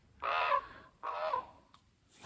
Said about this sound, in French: Grand corbeau.